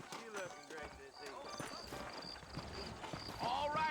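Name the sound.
horse hooves clip-clop from a video game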